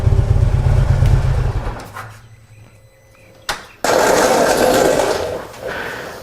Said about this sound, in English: let me turn on the bike